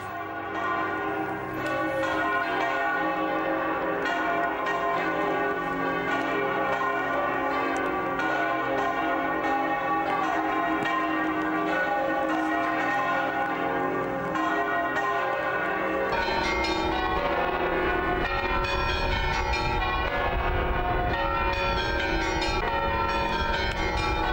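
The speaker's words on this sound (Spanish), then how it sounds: "cómo han repicado las campanas de la Almudena y las campanas de Santiago" Church bells of Almudena Cathedral in Madrid and of Santiago de Compostela peal continuously, layered rings overlapping loudly, with a deeper, busier swell of bells joining in during the final stretch.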